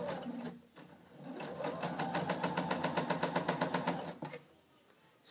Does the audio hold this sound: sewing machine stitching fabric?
yes